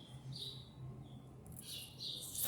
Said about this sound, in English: You probably can hear those birds chirping.